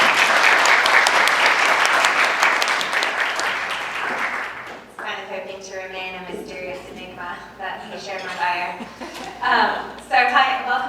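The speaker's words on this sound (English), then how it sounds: "a round of applause." A symposium audience applauds speakers at a law review event on migration, dense clapping for about five seconds that fades out, followed by a speaker talking alone into a microphone.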